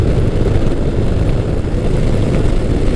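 A Kawasaki Concours 1000 (GTR1000) touring motorcycle cruising at 55 mph, heard as a steady, loud engine drone mixed with heavy wind rush that stays constant throughout, with no talk.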